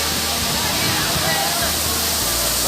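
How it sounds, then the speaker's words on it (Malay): Pandan waterfall at Pancing, Pahang roars in a loud, unbroken rush of falling water close by, with faint voices nearby. "Air terjun."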